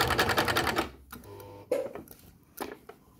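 A sewing machine stitches a 1 cm seam on a blouse in quick rattling bursts: a fast stitching run at first, then pauses and short restarts, close and fairly loud, with no voices.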